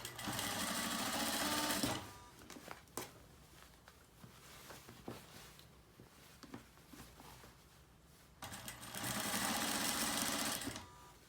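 A sewing machine stitches elastic into a garment waist. It runs loud and steady in two bursts at the start and end, with quieter handling clicks and rustles between them.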